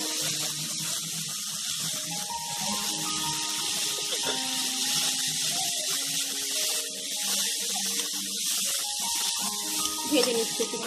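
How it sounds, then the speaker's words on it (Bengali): Mango pieces sizzle and fry in a pan while rohu fish curry is being cooked, a steady broadband hiss running throughout with a few faint clinks and background tones. "ভেজে নিচ্ছে একটু ভালো করে"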